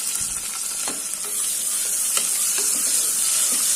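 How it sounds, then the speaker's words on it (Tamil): Two large sliced onions frying with whole spices in a pan for kuska, a loud, dense, continuous sizzle with light stirring scrapes, close up and with no talk. "2 பெரிய வெங்காயம் நல்லா செவக்கணும், அந்த அளவுக்கு வதக்கிக்கலாம்."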